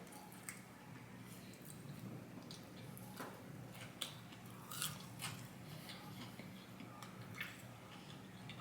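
Crunchy McDonald's food is bitten and chewed close to the ear, giving faint, irregular crisp crunches and small wet clicks spread over several seconds, with no talking.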